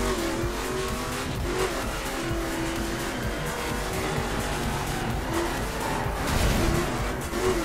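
Racing car engine in The Crew driving game, driving through a small town during a long race, with a steady loud drone, shifting revs and occasional tire squeal throughout.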